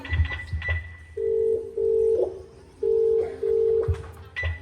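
A telephone's ringback tone purrs in four steady pulses, with short pauses between them, after a brief busy clatter at the start.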